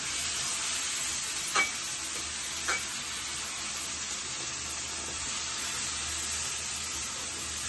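Spices and cinnamon fry in a pan for Bengali pitha, giving a steady close broadband sizzle with two brief stirring scrapes early on and no voices.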